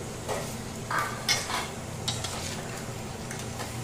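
Four chopped medium onions fry in a pot for haleem, a close, steady sizzle broken by a few scraping stirs and light clinks of a utensil against the metal, with no talking.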